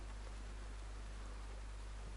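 Rain pours in the DayZ video game as a constant, broad hiss of drops over a low steady hum, unbroken and even throughout with no talking.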